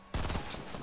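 Burst of gunfire in Fortnite, a sharp sudden onset into rapid overlapping shots that ring out loudly for under a second.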